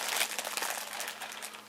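Plastic zipper bag being sealed shut around an animal hide soaking in a mayonnaise and egg tanning mixture, a quiet close crinkling and rustling of plastic for under two seconds.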